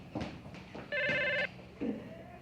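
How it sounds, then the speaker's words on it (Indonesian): A telephone rings once in a steady, bright electronic burst in an indoor office scene, set between soft footsteps and rustling before and after. "Telepon, pasti dari dia."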